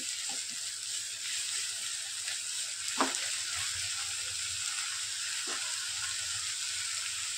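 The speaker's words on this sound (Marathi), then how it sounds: "टोमॅटोची प्युरी घालते मी आता। परतून घेऊ।" Tomato puree sautés in a pan for a pomfret fish curry, giving a steady, close hiss and sizzle throughout, with a few faint clinks of a spoon stirring.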